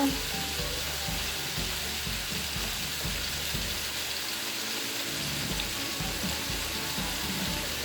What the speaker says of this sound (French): Je mets le chou en premier parce qu'il prend plus longtemps à cuire